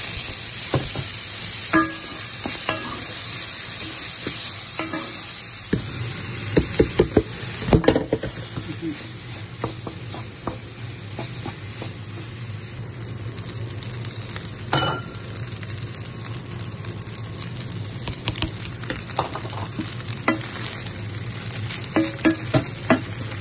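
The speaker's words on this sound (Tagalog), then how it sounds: "Tidbits ng bacon and green peas. So, ready ng igisa." Sautéing onion, garlic, carrots, bacon, peas and egg for yeung chow fried rice in a pan: continuous loud sizzling with intermittent clinks and scrapes of a utensil stirring, and no talking.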